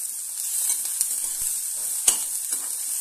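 Capsicum sautés in a spoonful of oil in a pan, a faint, steady soft sizzle with a few light clicks of a spatula against the pan.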